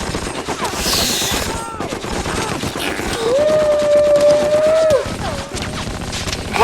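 Gunfire in a Band of Brothers war scene: loud bursts and rattling volleys of shots with crashing impacts, mixed with shouting voices and a sustained whistling tone in the middle.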